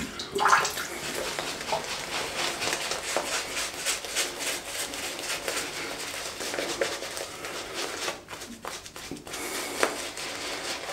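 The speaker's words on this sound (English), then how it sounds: "We're just adding some water to the brush." Water runs steadily onto a shaving brush for a wet shave with soap, a continuous close splashing hiss that lasts throughout with a brief dip near the end.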